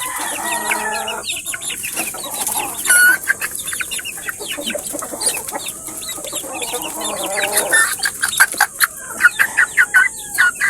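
Bulik roosters and chickens cluck and call close by in a busy, overlapping chorus, with sharper bursts of clucking toward the end and someone speaking faintly at times.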